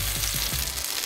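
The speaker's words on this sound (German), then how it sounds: "dann können wir hier in die Pfanne direkt, soll auch schön so brutzeln" A sandwich sizzles in a hot frying pan, giving a close, steady crackling fry with a few soft low bumps.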